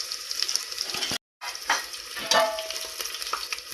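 Cumin seeds sizzling in hot oil for dal khichdi, a steady bright crackle and hiss close by, briefly cut off, then resuming with small pops and stirring sounds.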